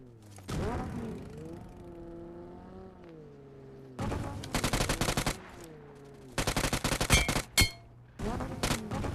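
Bursts of rapid gunfire from a first-person shooter video game, several loud volleys separated by short pauses, with a voice talking between and over the shots.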